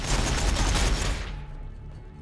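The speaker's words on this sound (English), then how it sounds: "Warbikers firing, boss!" Ork warbikers firing guns in Warhammer 40,000: Battlesector, a dense rapid burst of gunfire that holds loud for about a second then cuts off, leaving a fading rumble.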